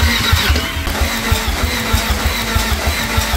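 An engine fitted with a 36-1 trigger wheel runs steadily and loudly up close, with a continuous low rumble and rapid pulsing, no voices.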